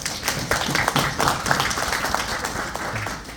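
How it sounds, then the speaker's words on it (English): Audience applause at an engineering conference in Jamaica, a steady wash of many hands clapping in a hall, moderately loud and continuous, with faint voices mixed underneath. "Can I have a round of applause to JIE,"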